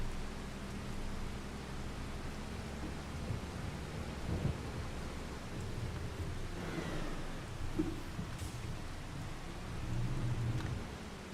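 Steady rain hiss with low rumbling undertones, constant and fairly quiet throughout, no voices, in the video game Farming Simulator 25.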